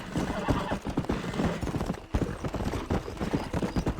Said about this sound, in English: Although this horse is the worst.